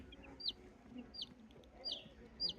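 Sick broiler chicks in a village coop give thin, high peeps, about four short calls spaced at an even pace. They sound faint and quiet over low background noise.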